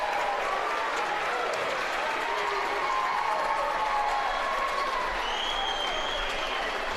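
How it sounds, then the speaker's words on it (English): Steady crowd applause fills a high school gym during a regional boys' basketball championship as a player heads to the bench, dense and sustained throughout with faint voices mixed underneath. "Ethan Taylor gets a good round of applause as he heads to the bench."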